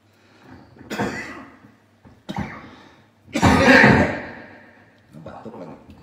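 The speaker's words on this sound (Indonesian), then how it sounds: "Batuk lagi." Three or four separate coughing bursts, close and fairly loud, the third the longest and harshest, with short pauses between them.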